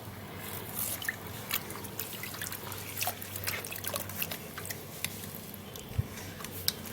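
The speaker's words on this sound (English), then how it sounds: "I am going to be washing it to remove all this dirt and dust, and I have to wash that properly since it's something I am gonna be drinking." Water trickles and splashes continuously while onions are washed under it by hand, close and steady, with occasional drips and wet squishing sounds and no talking.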